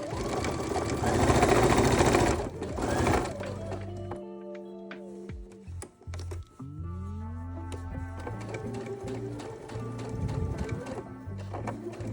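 Sewing machine running a row of stitching on a welt pocket for a street jacket, loud bursts of steady motor whir that stop and restart, with light handling clicks in between.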